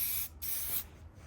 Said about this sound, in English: I'm spraying from the opposite direction, kind of at an angle